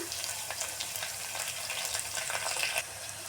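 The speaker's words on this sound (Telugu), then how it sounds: "అలాగే ఒక ఉల్లిపాయ తరుగు ఇది ఒకసారి ఫ్రై ఇందులోకి కొంచెం కరివేపాకు" Chopped onion and curry leaves fry with green chilies and cumin in a hot pan, giving a close, steady, crackling sizzle with small pops throughout.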